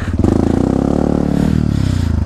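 A brand new Yamaha WR155R motorcycle on a trail ride revs hard and close, its engine pulsing in a rapid, even thrum with clattering underneath, loud and uninterrupted by voices.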